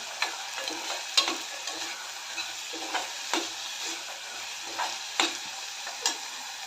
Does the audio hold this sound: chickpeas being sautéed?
yes